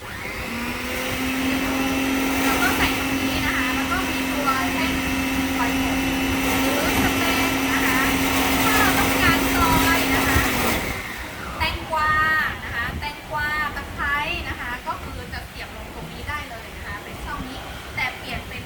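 A small electric grinder for meat and curry paste runs with a loud, steady motor whine for about ten seconds and then shuts off. Afterwards someone talks close by.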